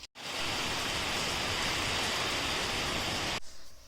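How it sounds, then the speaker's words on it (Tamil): Heavy rain pours steadily onto a garden as a dense, loud wash of hiss that begins abruptly and cuts off near the end. "இந்த வீடியோ எடுக்கிற அன்றைக்கி செம்ம மழை"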